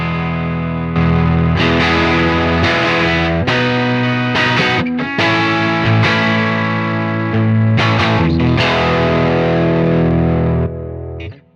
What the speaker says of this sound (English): boost your input by 15 dB so that you're hitting the front end of the amp harder and you're getting more distortion off the bat